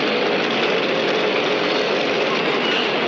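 A car engine idles beside a fuel dispenser at a petrol pump, a loud, steady, unbroken rumble heard up close without talking.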